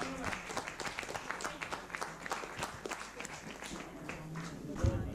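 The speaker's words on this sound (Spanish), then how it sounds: "¡Aplauso por este round 2!" A crowd at a freestyle rap battle applauds and cheers after the second round, a dense wash of clapping and shouts holding steady throughout.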